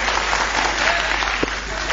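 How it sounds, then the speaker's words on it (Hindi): An audience claps steadily and densely at a Hindi poetry gathering. The applause is loud and continuous, with no speech over it. "ऐसे ताली बजती है,"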